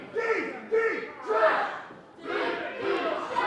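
A wrestling crowd at an XVW event chants and cheers in rhythmic rising swells, a loud, reverberant mass of voices in rolling bursts.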